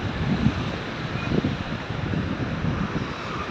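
Steady wind rushing and buffeting a microphone outdoors in a plaza, a continuous low roar with occasional gusts and no talking.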